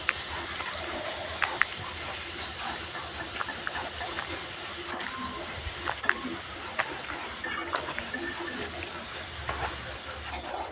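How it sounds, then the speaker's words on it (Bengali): Leafy greens frying in a pan, giving a steady, continuous sizzling hiss with scattered small pops and crackles throughout, close and fairly loud. "এবার আমি শাকগুলো ভালোভাবে ভেজে নেব, একটু ভালোভাবে ভেজে নেব।"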